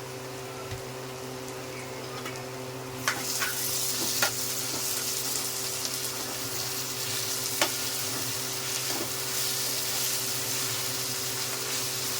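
Onions and ginger-garlic paste fry in a pan with a steady, dense sizzle that swells louder partway through, a few light utensil taps over the constant crackle, close and without talk.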